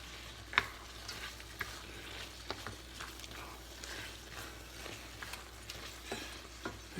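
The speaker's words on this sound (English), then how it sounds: "So now I'm just going to add back my fried sausage, incorporate that in" Fried sausage is stirred into simmering garlic chili in a pot, giving a faint, low bubbling sizzle with occasional soft scrapes and clinks of the spoon, no voices.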